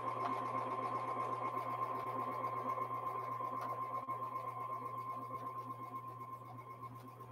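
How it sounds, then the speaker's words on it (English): A domestic sewing machine stitches long quilt seams in a steady, continuous whirring hum with rapid needle clatter, close and alone, gradually fading slightly toward the end. "Sewing these big long seams can be quite boring."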